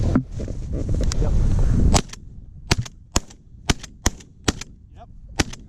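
Shotgun shots fired at city pigeons: about seven sharp, separate reports at uneven intervals, following a couple of seconds of loud, rumbling background noise.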